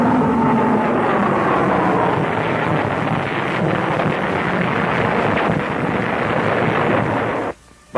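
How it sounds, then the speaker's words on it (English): A forward-firing rocket launches from a Navy Avenger aircraft, heard as a loud, continuous roaring rush that fills the clip and cuts off briefly just before the end. "These Avengers are equipped with a forward-firing rocket, which can go in one side of a sub and out the other."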